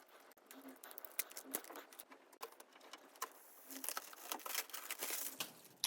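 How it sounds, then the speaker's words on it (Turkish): Adhesive tape being peeled and pulled off the socket cable of an Elegoo Centauri Carbon 3D printer during unboxing, a series of close, quiet crinkling and tearing scratches in irregular bursts, with no talking. "Şurada soket kablosunun bantını çıkartalım."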